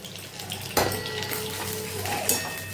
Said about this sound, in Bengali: এটা কিন্তু ঘিতে রোস্ট করছি।